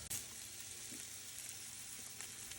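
Shrimp sizzling in butter in a pan over turned-down heat, a steady close hiss of frying with light crackle and a few soft clinks, no voices.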